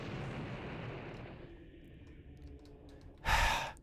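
A remote-detonated explosive goes off in the shooter game Blood, one short, loud burst after quiet ambient rumble.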